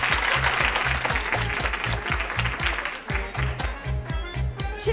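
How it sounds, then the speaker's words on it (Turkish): Sustained applause from a gathered audience, a dense, steady patter of many hands clapping at close range, with a low rhythmic thump running underneath. "Çok seviyorum alkış."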